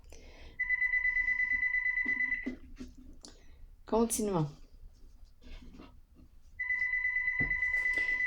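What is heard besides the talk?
telephone ringing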